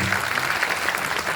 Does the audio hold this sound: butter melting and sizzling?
no